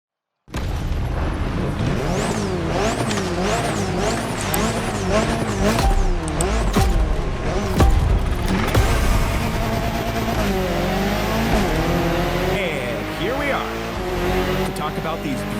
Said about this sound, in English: He's going to drive the Alpines today.